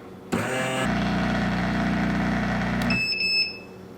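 Bellucci Slim Cafe espresso machine brewing: a loud, steady pump hum with a low buzzing drone runs for about two seconds, then stops, followed by a few short high beeps.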